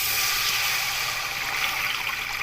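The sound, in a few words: water being poured into a biryani pot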